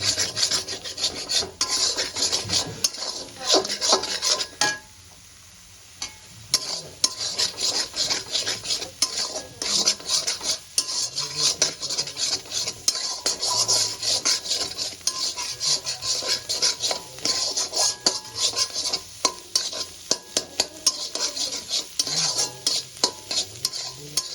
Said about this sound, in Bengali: ডিমগুলোকে আমি ফ্রাই করব ফ্রাই করার সময় সামান্য একটু নুন দিয়ে